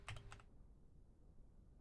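Computer keyboard keys clatter in a quick burst of several close, crisp taps, then fall silent, leaving only quiet room noise.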